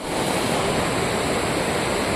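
River water rushes where the Uwa and Ghusbang streams meet. It makes a steady, loud broadband roar with no breaks and no voices.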